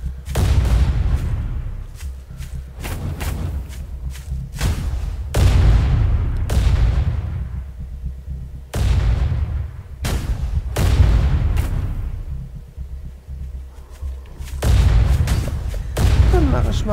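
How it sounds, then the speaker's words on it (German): Ballistas in the video game Night of the Dead fire repeatedly at creatures, loud booming shots in an irregular series with decaying tails, some talking mixed in. "die Ballistas habe ich auch so eingestellt, die schießen tagsüber auf die Tierchen und nachts auf die Schwerden"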